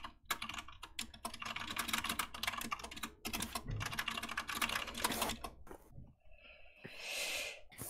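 Rapid clatter of computer keyboard typing, dense and continuous with brief pauses, fairly close, while someone types out an entire movie script in one sitting; a snort-like breath and a short rustle near the end.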